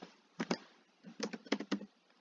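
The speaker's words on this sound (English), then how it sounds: "You just type in the domain here." A domain name is typed on a computer keyboard in a few quick clusters of soft, close keystroke clicks separated by short pauses, with no talking.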